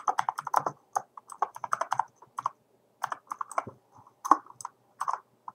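Computer keyboard typing a return address on an envelope in Microsoft Word: close, irregular bursts of quick key clicks with short pauses between them, alone without voices.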